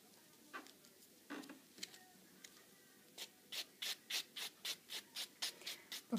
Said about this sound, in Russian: Шлифуем.